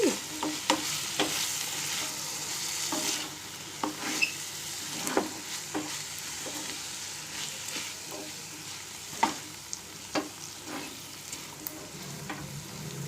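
Small tomato pieces fry in a pan for cabbage curry, a steady close sizzle broken by repeated clicks and scrapes of a spoon stirring, with no talking.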